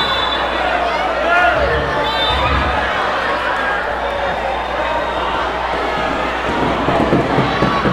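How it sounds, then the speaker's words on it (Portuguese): A school games final crowd shouts and cheers continuously, a dense roar of voices from a packed venue with swelling bursts throughout. "Torcida grita"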